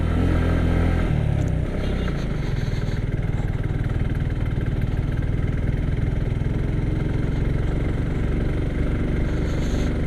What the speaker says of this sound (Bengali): মানে সেকেন্ড গিয়ারে বাইক উঠতে চাচ্ছে না, ফার্স্ট গিয়ারে দিয়ে দিলাম।